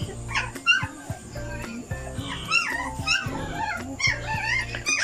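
Newborn Belgian Malinois puppies, about two weeks old, whimper, whine and yip close by in a busy overlapping chorus of short, high cries, with a few low sounds beneath.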